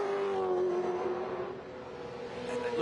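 Supercars race cars lapping during qualifying, a sustained engine whine holding steady then dipping and rising again, heard at a distance with a dull roar beneath.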